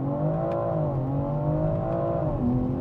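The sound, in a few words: BMW X3M launch control acceleration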